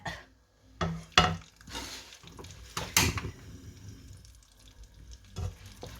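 Idiyappam noodles fry in oil with chilli powder, making short bursts of sizzling and crackling with a few clatters of a utensil against the pan. The bursts are moderately loud and separated by quieter gaps.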